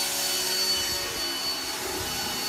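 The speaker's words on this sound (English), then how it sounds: "that's a leaf blower blowing away the cuttings after Kevin got a haircut from his wife, Delana." A leaf blower roars steadily at close range as it blows hair cuttings away after a haircut, a loud continuous whooshing drone with a faint high whine and no speech.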